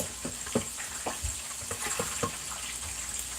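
Cold tap water runs and splashes over green beans in a strainer in a home kitchen, with irregular soft knocks and rattles from handling the beans over a steady watery hiss.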